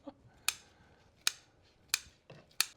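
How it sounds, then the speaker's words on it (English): Kitchen shears snip through bacon for a potato chowder, four crisp close-up cuts spaced roughly evenly apart, each a sharp short click, with a soft quiet background in between. "I'm finding more and more these kitchen shears work so much better to cut little bite-sized pieces"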